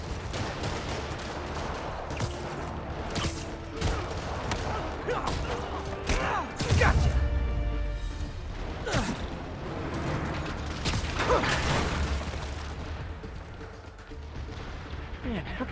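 Rockets fire and explode in a Spider-Man video game, loud booming blasts and mechanical clatter in rapid bursts, with characters' voices speaking over the action.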